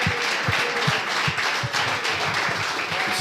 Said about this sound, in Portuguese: Damos um aplauso para esse Senhor maravilhoso